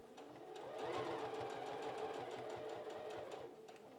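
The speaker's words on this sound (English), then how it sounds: "You want to sew the seam with a straight stitch and a 5mm or 1/4 inch seam allowance." A sewing machine runs a straight-stitch seam on a bikini, a steady fast rhythmic whirr of needle strokes that holds evenly for several seconds before easing off, close and clear with no talking.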